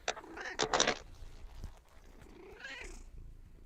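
A domestic cat makes two short vocal calls, close by, the first louder than the second, over a low background murmur.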